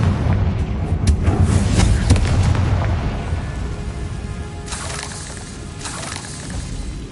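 A Confringo blasting spell explosion in the video game Hogwarts Legacy, a loud booming blast with a fiery crackling rumble that slowly decays over several seconds.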